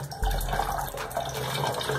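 A continuous stream of water splashes and gurgles as it is poured into a bottle to make an anti-chlorine solution with sodium thiosulfate.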